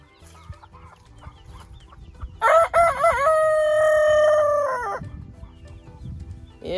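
A single loud rooster crow, a long drawn-out call with a rising start and sustained tail, standing out clearly over low background noise.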